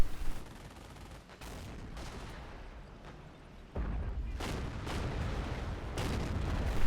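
A Pak anti-tank gun fires in a war video game amid dense battle noise, with heavy booms and crackling gunfire over a loud, continuous rumble.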